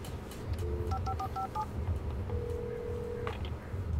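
An old telephone in the video game Alan Wake is dialed, giving a short series of quiet keypad beeps followed by one longer tone over a low rumbling background.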